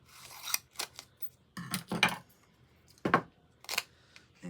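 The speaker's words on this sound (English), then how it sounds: "I just cut me a piece of paper tape" Scissors snipping paper tape for a gingerbread-themed mini junk journal, several sharp crisp cuts in an irregular rhythm with quiet gaps between, close up and without talk.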